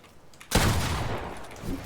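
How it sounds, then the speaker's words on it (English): Video game gunfire erupts suddenly after a short quiet lead-in as a character side-jumps and shoots, a loud, close burst of rapid shots that rings out to the end. "You do a side jump and shoot like this."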